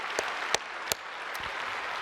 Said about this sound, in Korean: 힘차게 박수합시다